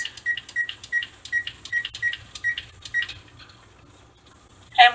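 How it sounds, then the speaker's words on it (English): A kitchen timer chirps in a rapid series of short, evenly spaced electronic beeps as it is set for 10 minutes during pressure canning of frozen mixed vegetables, ending with one louder tone. "I'm going to go ahead and set the timer for 10 minutes"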